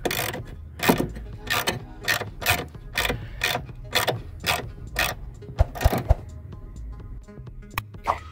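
A ratchet with a 10 mm socket loosens the ECU bolts on a Honda Civic, giving repeated quick clicking bursts in a steady rhythm, close and fairly quiet, with no talk.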